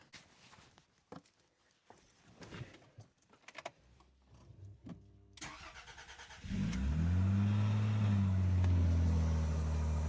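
Rover 75 engine after replacement of the intake VIS motors: quiet clicks and handling noises come first, then the engine cranks and settles into a steady, smooth idle, close and loud.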